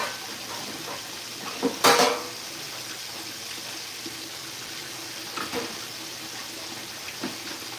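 Hot tap water running into a sink while dishes are washed, a steady faint hiss broken by a few louder clattering splashes near the start and middle.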